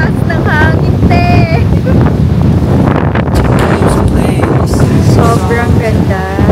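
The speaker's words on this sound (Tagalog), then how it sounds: "Sobrang lakas ng hangin, te!" Strong wind at a high viewpoint in Singapore roars and buffets the microphone in a constant loud rush, with people talking and singing throughout.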